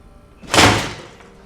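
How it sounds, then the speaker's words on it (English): A window blind slams once, sharply, with a brief rattling decay, fairly close, in an otherwise quiet room. "he hears the noise of the blind slam"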